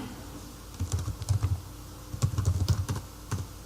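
Typing on a computer keyboard, two quick bursts of close, soft key clicks separated by a short pause, fairly quiet with no talking.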